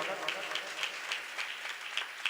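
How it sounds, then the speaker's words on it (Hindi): Enthusiastic applause welcoming a guest at an International Yoga Day event, a steady dense patter of many hands clapping throughout, with voices mixed in underneath. "एक बार जोरदार तालियों से स्वागत"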